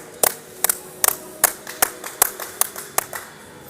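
Rhythmic hand clapping at an indoor bowls tournament, about ten crisp, close claps at a steady, brisk pace, nearly alone with faint background hum.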